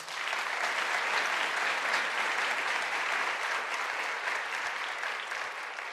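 Audience at a motivational lecture applauds steadily and loudly for about six seconds, a dense continuous clatter of many hands with no pause, fading slightly at the end.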